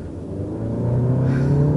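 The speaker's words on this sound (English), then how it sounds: "a turbo that spools up like that" Turbocharged engine of a 2017 Audi S3 with 292 horsepower and a 6-speed dual-clutch gearbox, spooling up in a steady rising hum that builds in pitch and loudness over a low engine rumble.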